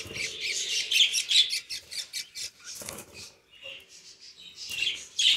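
Three budgerigar chicks give thin, rapid high chirps and squeaky calls in close, repeated bursts, with a brief pause partway through.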